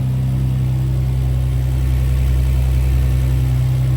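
Nissan GT-R with a 4.1L twin-turbo V6 (twin 66mm turbos) and 4-inch valved exhaust idles steadily after a cold start, a loud, constant low rumble with no talking.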